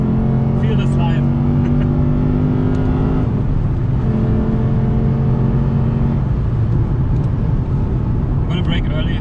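Lexus RC F Track Edition V8 on throttle around the Nürburgring Grand Prix circuit, a loud sustained engine drone heard from inside the car, holding steady and then dipping with gear changes, with a driver talking over it.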